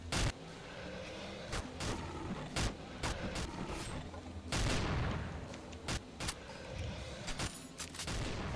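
Rapid, irregular gunfire from Counter-Strike 1.6 in a Nemesis zombie-escape mode: sharp close shots and short bursts crackle throughout over steady background game noise.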